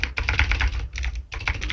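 Quick clattering keystrokes on a computer keyboard as commands are typed out for a Bukkit plugin, coming in close, dense bursts with a brief pause between them.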